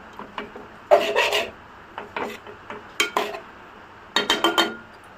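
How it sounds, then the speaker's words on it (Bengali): A metal lid goes onto a pot of cooking cabbage and potatoes, giving a series of close scraping, rattling clunks in short bursts separated by pauses, with no voices. "এখন ঢাকনাটা দিয়ে দিলাম।"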